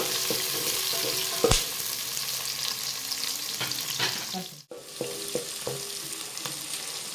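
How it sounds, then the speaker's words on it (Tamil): Onions frying in a pan for a Kerala-style fish curry, a steady close sizzle with occasional stirring scrapes and clinks, one sharp knock near the middle and a brief dip before the sizzling resumes. "வெங்காயம் நல்லா வணங்கணும், பொன்னிறமாக வணங்கணும்."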